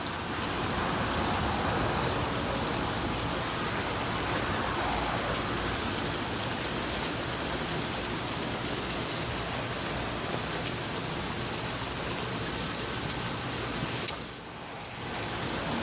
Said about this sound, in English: Look at my happy garden in the rain.